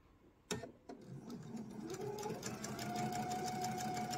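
A sewing machine stitches an eyeglasses case, opening with two soft clicks before settling into a quiet, steady, even-paced run of needle strokes.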